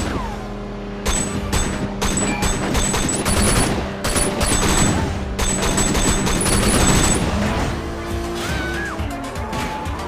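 Gunfire in the video game Sleeping Dogs during a supercar chase: dense, sustained bursts of shots and impacts over car engine noise, loud and continuous, with faint game sounds between volleys.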